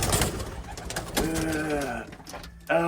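A male racing pigeon sitting on the nest gives a loud, close, throaty coo that rises and falls, followed by a shorter call. Other nearby rustling and loft noise can be heard around it.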